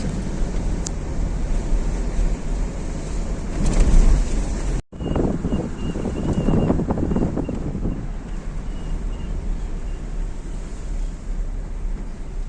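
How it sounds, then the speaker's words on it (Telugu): Steady wind blowing across open Kalingapatnam beach, a broad rushing roar that swells around the middle and then settles into a constant gusty hiss. "సముద్రం గాలి తాకిసింది"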